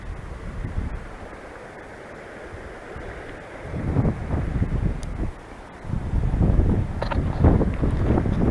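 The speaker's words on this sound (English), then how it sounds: "Windy, here comes the wind." Wind rises in gusts over the Juniata River in Pennsylvania, quiet at first, then swelling twice into broad rushing surges that sound close and fairly loud.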